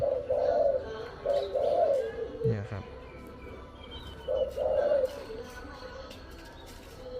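Soft, low coos from a decoy dove come in a few repeated phrases, with someone speaking briefly partway through.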